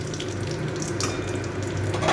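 Nigella seeds (kalo jeera) frying in oil in a pan for masala kundru, a steady close sizzle and crackle with occasional light pops, heard alone.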